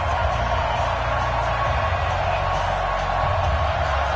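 Crowd noise fills an NFL stadium at a Carolina Panthers versus Chicago Bears game in an EA Sports football game, a loud, unbroken roar of cheering and whooping that holds steady throughout.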